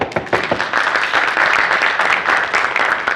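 A live audience applauds as a volunteer comes up on stage at a card magic show, a dense burst of clapping that swells after a few scattered claps and holds steady for several seconds.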